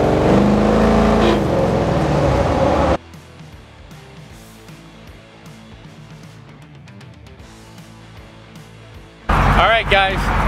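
Ford F150 pickup with a Godzilla engine swap driving, a loud engine roar at the start and end with a steadier, quieter cabin drone between, under spoken talk.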